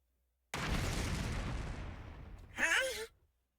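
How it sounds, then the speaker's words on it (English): A bomb detonating in the video game The Hundred Line: a sudden loud blast that rumbles and slowly decays over about two seconds, followed by a short voiced gasp or groan. "Sponsor pressed the detonation button for the bomb in my body."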